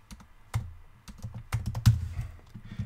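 Computer keyboard keys clack as code is typed in a React project, in uneven short bursts and single close taps with brief gaps between them.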